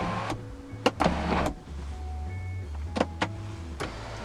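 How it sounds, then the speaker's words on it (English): A small electric motor in a 2015 BMW 225i Active Tourer Sport Line cabin whirs as the sunroof opens, steady and close, broken by a few sharp clicks and knocks. "You can also open the sunroof as a vent"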